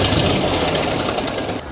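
A 1970 Jeep CJ5 engine runs steadily during carburetor tuning, a loud, continuous mechanical drone with a rough, knocking texture and no voices.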